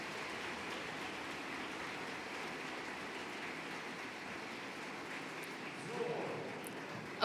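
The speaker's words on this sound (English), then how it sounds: "Yeah, a great applause for him" A conference audience applauds after a talk at a large stage event, a steady wash of clapping that sounds distant and soft, holding evenly for several seconds before a brief swell near the end.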